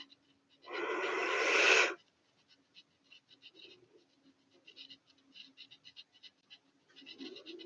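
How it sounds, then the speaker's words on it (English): A deep inhaled breath during a guided meditation, one loud, sustained breathy rush lasting about a second, followed by quiet with faint scattered small noises. "We're gonna take a deep breath in and hold it."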